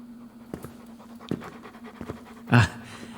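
A large dog pants in short, rhythmic bursts close by, with a steady low hum underneath and a louder breathy huff near the end; no one speaks.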